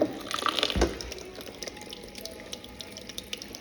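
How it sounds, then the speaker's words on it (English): Cold tap water splashes briefly onto eggs in a bowl, then trickles and drips more quietly, close by with no talking. "I'm just going to put some cold water over them."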